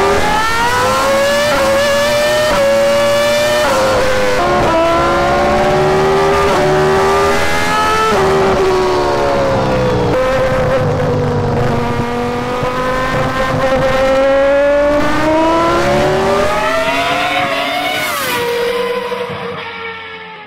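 A 1998 Ferrari F300 Formula One race car engine screams at high revs, its pitch sweeping down and climbing back up again, loud and close for the whole stretch before easing slightly at the end.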